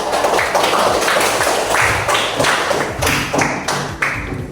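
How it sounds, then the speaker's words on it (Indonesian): A classroom group receiving applause from students, a brisk close round of hand clapping with sharp individual claps, continuous and fairly loud. "beri tepuk tangan untuk kelompok"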